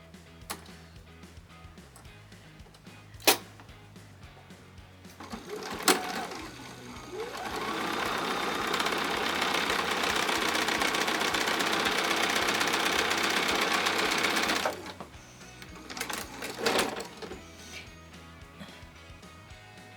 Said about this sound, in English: we're going to sew on the line we drew from the top corner of the block all the way to the bottom